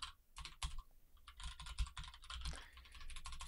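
Rapid clicking of computer keys in uneven bursts, close and fairly quiet, with brief pauses between runs of keystrokes.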